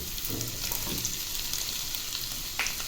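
Boiled, shredded chicken and carrots fry in a hot pan with an oil sizzle that runs steadily throughout, with a few faint stirring scrapes and no talking.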